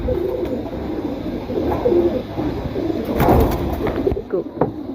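Pigeons in a loft of birds for sale coo in low, overlapping rumbles against a busy background, with a short louder burst of movement partway through.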